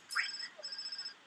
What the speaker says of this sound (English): You were getting a phone call.